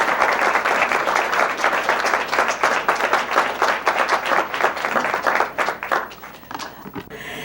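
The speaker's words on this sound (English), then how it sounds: "Let's give her a great round of applause as she comes." An audience at an evening event in a Chicago hotel hall applauds steadily, a full wash of clapping that swells, holds, then tapers and fades over the last couple of seconds.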